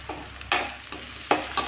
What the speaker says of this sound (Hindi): प्याज हल्का सा भुन जाए